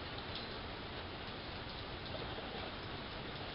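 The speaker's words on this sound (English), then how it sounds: "The rain kind of slowed down, the wind quit." Light rain falling steadily after a big summer storm in central Ohio, a soft continuous hiss of drops with no wind, faint and even throughout.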